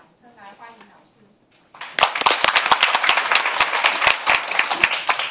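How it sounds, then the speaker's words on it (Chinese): Audience applause welcoming a lecturer on air quality, bursting in loud and close right after a brief spoken introduction, with dense sharp individual claps continuing steadily to the end. "那我们今天以热烈的掌声来欢迎老师。"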